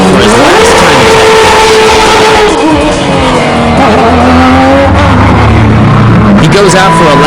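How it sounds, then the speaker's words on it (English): Tsuchiya's race car pulls out on a time attack lap, its engine revving and shifting loudly and close up, with tire noise over a deep drone while a commentator talks over it. "Tsuchiya goes out for his last time attack."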